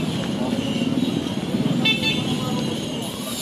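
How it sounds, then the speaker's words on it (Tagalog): Busy street traffic near the Malabon fish port, with cars and buses rumbling steadily and a couple of short car horn toots cutting through, while voices talk over the steady road noise. "Traffic na."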